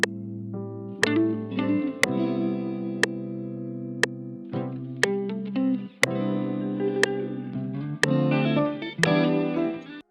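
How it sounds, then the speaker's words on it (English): Layered guitar parts run through Guitar Rig effects and reverb for a live-instrument beat, sustained chorused and distorted tones with sharp percussive hits about once a second, loud and continuous with no talking. "I just put some guitar rig and reverb on the two new layers."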